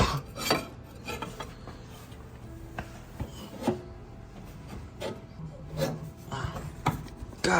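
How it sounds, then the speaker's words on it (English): A pry bar works at a part on a BMW E46, giving scattered scraping, rubbing and metallic clinks, several sharp taps and knocks at irregular intervals, fairly close and moderate in level. "I should be able to take a pry bar, get up in here, and just pop this off."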